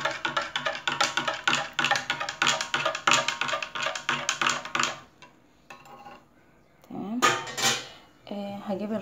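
A spoon stirs salt into water in a jar for pickled cucumbers, giving rapid rhythmic clinking of metal against glass for about five seconds, followed by scattered clatter and handling sounds.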